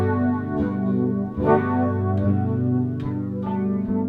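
Sustained music passes through a tape-style flanger made by running two tape reels of the same source slightly out of time, giving a sweeping, swirling comb-filtered tone that stays steady and loud throughout.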